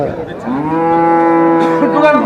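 A large dairy cow at a busy Bangladeshi cattle market lets out one long, loud, droning moo that fills most of the moment, with market bustle faintly behind.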